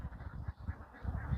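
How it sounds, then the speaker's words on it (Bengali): Ducks at a laying-duck farm in Bangladesh quack in short, rapid, overlapping bursts, fairly close and moderately loud, with no talk. "আমার পিছনের যে হাঁসগুলো আপনারা দেখতেছেন"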